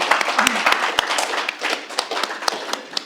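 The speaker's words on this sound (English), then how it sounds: "give Dr. J a round of applause for a beautiful session" Audience clapping at the close of an authors' forum session honouring Dr. J, a lively patter of many hands with sharp individual claps standing out near the microphone, running steadily for a few seconds.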